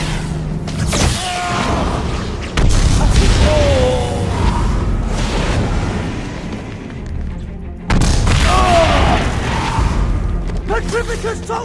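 Blasting-curse explosions in a Harry Potter and the Deathly Hallows video game, with two loud, sudden booms over a continuous busy game soundscape, while a voice shouts spell names in between.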